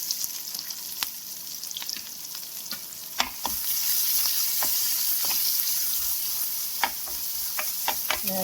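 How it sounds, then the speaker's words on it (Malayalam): Onion and green chillies sauté in coconut oil with mustard seeds and curry leaves, a close, steady sizzle that swells louder partway through, dotted with sharp crackles and pops from the seeds. "ഒരു സവാളയും 2 പച്ചമുളകും കൂടി ചേർത്ത് വഴറ്റാം"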